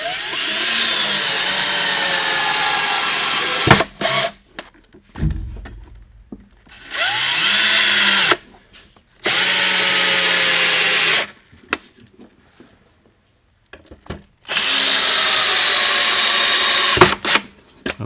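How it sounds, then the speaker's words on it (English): A power drill drives screws into equalizer table slides on a pedestal base table, in four sustained whirring bursts of a few seconds each, close and loud, separated by quiet pauses. "and run those screws in"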